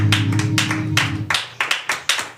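A congregation at a Sunday church service claps in a quick, uneven burst, loud and close, with a low voice or music tone under the first second before it fades and sharp separate claps carry on.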